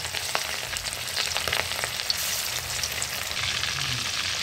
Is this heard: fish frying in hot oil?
yes